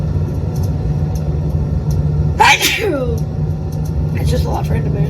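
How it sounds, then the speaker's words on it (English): A single sharp sneeze bursts out at close range from someone riding in a car on a cross-country drive, set against a steady low engine and road rumble. "I'm gonna sneeze."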